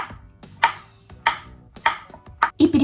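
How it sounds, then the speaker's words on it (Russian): Knife chopping bananas into small pieces on a cutting board: four or five crisp, evenly spaced chops up close, ending in a quick cluster of cuts, with no talking. "Нарезаем бананы на небольшие кусочки"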